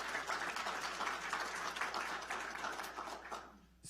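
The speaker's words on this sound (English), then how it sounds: "give yourself a round of applause too" Staff applaud themselves at a government budget presentation, a quiet, moderate patter of clapping from a modest group that fades out near the end.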